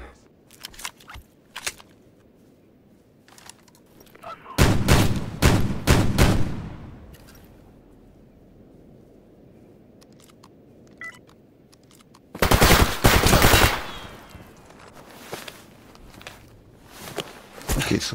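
Video game gunfire from a shotgun and an automatic weapon: scattered single shots, then two loud sustained bursts of rapid fire several seconds apart, with quieter clicks and footsteps between them.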